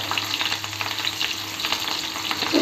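Crushed garlic sautéing in oil for methi bhaji, a dense, continuous close sizzle with faint stirring scrapes throughout and no voices.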